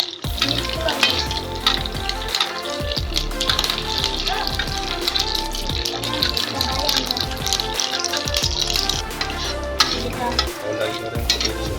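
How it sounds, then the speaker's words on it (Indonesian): Continuous crackling sizzle of unusual bathroom products, such as toothpaste, frying in a pan, close and steady, with occasional clinks and scraping of a utensil stirring. "Lagi goreng seperti ini guys."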